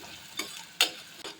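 Coriander seeds frying in a pan for homemade sambar powder, faint sizzling broken by a few sharp stirring scrapes.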